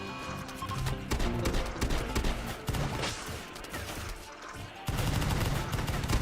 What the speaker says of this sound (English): Oh my god, the shotguns.